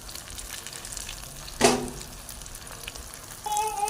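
Potato snack frying in hot oil, a steady soft sizzle with one sharper burst of crackle partway through and a brief clink near the end.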